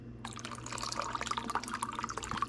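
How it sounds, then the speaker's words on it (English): Room-temperature water pours steadily into a container for sea moss gel, a continuous splashing trickle with small drip-like accents, close and moderately loud with no talking. "I'm adding room temperature water."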